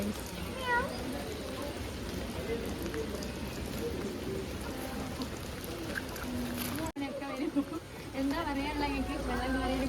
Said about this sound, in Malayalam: അശ്വതിക്ക് പൂച്ചനെ കണ്ടു.